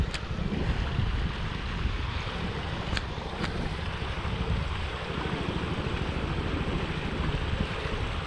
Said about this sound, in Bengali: পানি একটু উপর লেভেল দিয়ে যাচ্ছে, কিন্তু প্রচণ্ড স্রোত